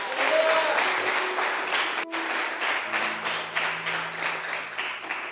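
Church congregation claps in a lively, fairly rhythmic burst, individual hand claps audible in a loose pulse, with faint voices and a sustained tone underneath.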